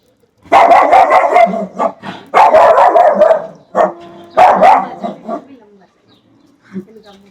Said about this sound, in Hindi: जब तक वो चले नहीं जाएंगे इनका भौंकना चलेगा।